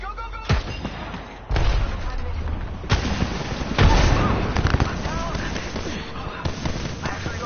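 A grenade blast and gunfire in a video game firefight, sharp reports and a heavier explosion cutting through dense combat noise, with voices shouting now and then.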